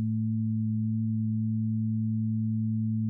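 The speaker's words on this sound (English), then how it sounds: "Different ratios of the two frequencies make different curves." A steady pair of pure sine tones at a 2-to-1 frequency ratio, drawn as patterns on an oscilloscope, holds unbroken and even for about three seconds with no other sound.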